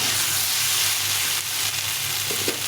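Fish masala with salt and turmeric sizzles and fries in a pan, a continuous loud hiss with faint stirring scrapes toward the end.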